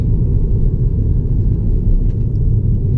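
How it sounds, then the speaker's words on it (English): Cabin of a 2016 Peugeot 308 GTI while driving, with its synthesized engine sound playing as a steady loud low rumble throughout, no voices. "That fake engine sound, I don't know why they've done that."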